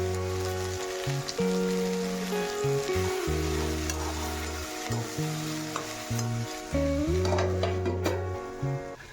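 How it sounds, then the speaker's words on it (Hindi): Steady, loud sizzling of okra being tempered in a hot pan, with occasional stirring and utensil scrapes, no talking. "इस जगह पे मैं भिंडी छौंक रही हूँ"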